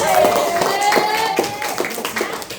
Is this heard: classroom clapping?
yes